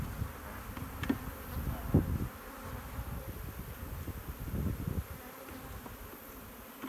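Honeybees swarm around an open hive during a summer split, while brood frames are lifted out. Their buzzing forms a dense, steady drone close by, with a few louder passes and some handling knocks.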